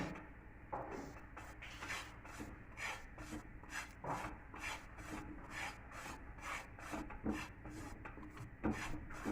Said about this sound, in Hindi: हल्की आग पे भूनना है इसको। इसमें कोई घी वगैरह नहीं डालना, घी के बगैर ही भून लेना।